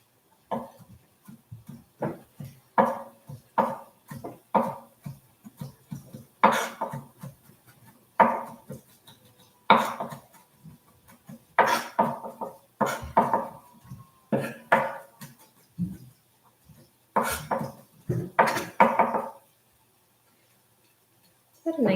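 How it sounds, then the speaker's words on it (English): A knife finely chops on a cutting board in a home kitchen as soba noodles with eggplant and mango are made, giving repeated quick bursts of close, crisp taps separated by brief pauses, with occasional talk. "But I am going to finely chop"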